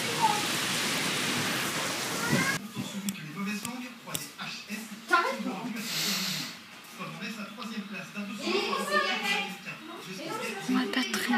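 Heavy rain from a violent summer thunderstorm in Haute-Savoie, a steady dense hiss of drops lasting through the whole stretch, loudest at first and then softer with uneven patter and impacts, while people speak over it.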